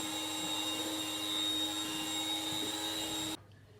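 An electric whisk beats soft butter and icing sugar into buttercream, a steady close whirring drone with a constant pitch that cuts off abruptly near the end, no voices over it.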